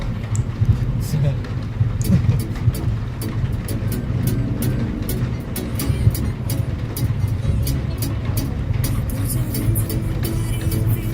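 Car driven while developing a fault: steady road and engine rumble with a rapid, irregular ticking or clicking layered over it, close and continuous, while a person talks over the noise.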